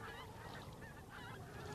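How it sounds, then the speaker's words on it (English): Migrating geese honk repeatedly at night over Shetland, heading south, over a dense, steady wash of background noise, their calls faint and overlapping as if passing at a distance. "Geese cross the night sky, heading south from their Arctic homelands."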